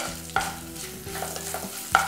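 Tempering of spices sizzling in hot oil with a pinch of asafoetida added while making cucumber curry, soft close crackle with a few sharp clinks of a spoon against the pan.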